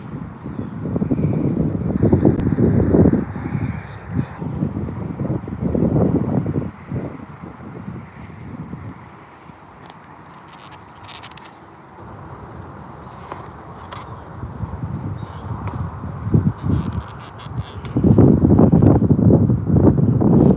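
Strong gusts buffet the microphone outdoors at a flying field for a small twin-engine beginner radio control trainer plane, low rumbling bursts rising and falling in waves, loudest at the start and end, with no voices.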